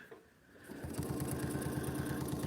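Sewing machine running a decorative stitch, starting after a brief quiet moment and then chattering in a fast, even rhythm of needle strokes, close and moderately loud.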